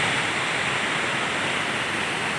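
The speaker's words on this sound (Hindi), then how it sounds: "क्या झरना है, वाटरफॉल देखिए भाई लोगों, जो इसके छींटे आ रहे हैं पूरे यहाँ तक" Roadside mountain waterfall near Uttarkashi throwing spray onto the road, heard as a loud, steady, close rush of falling water with no voices.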